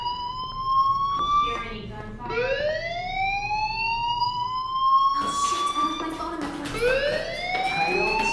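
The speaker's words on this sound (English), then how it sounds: "Hey, do you hear that fire alarm?" A school fire alarm wails in Life is Strange, rising electronic siren sweeps repeating loudly and continuously, with a voice speaking underneath.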